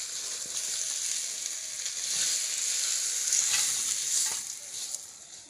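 Slices of pointed gourd (potol) frying in oil give a steady, close sizzle with a few faint stirring clicks, with no talk.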